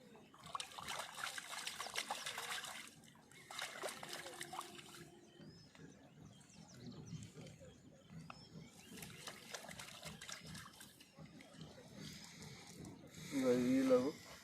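Water trickles and splashes steadily as soil is washed off plant roots on a farm. The sound is fairly faint and rises briefly toward the end, and a voice talks over parts of it.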